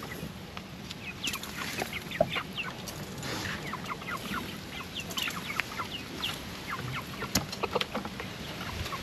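Backyard chickens cluck in short, scattered calls over a windy outdoor background, moderately near and fairly quiet, with no talk.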